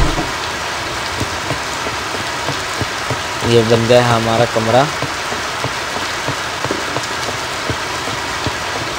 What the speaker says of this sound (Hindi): बारिश के कई जोरों फरोशों से हो रही है।